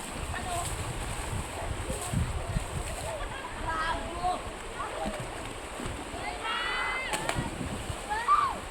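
A child splashes in flowing water among rocks outdoors, a steady rushing wash with scattered splashes, wind buffeting and voices talking throughout.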